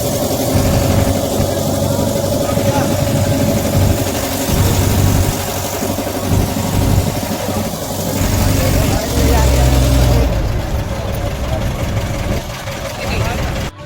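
Boat engine running as the boat pushes off onto the Ganges at Varanasi in the early morning, a loud steady low rumble with slight knocking vibration, a person talking over it for much of the time.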